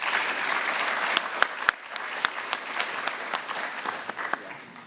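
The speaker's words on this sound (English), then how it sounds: "so give them one more round of applause." Audience applause at an FFA annual awards ceremony in Beaver Dam, broad clapping from a room of people with a few sharp nearby claps standing out, then thinning slightly toward the end.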